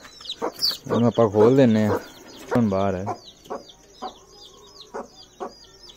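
Hens cluck in short bursts around someone talking nearby, with scattered higher bird calls between his phrases.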